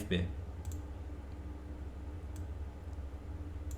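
Sharp mouse clicks on a software icon in Powermill Delcam, one crisp click at the start and a few lighter ticks later, close to the microphone over a quiet hum of room noise.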